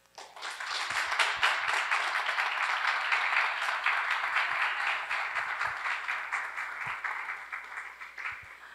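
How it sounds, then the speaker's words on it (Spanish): Audience applause welcomes a speaker to the stage at a conference, swelling quickly into dense, even clapping that holds steady and thins slightly toward the end, with occasional low knocks. "Con un gran aplauso, recibamos a Sarah Huff"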